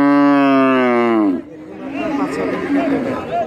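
A dairy cow at a Rajshahi cattle market gives one long, loud moo, then crowd chatter and voices from the busy livestock market carry on after it.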